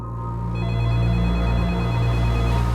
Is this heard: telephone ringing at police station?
yes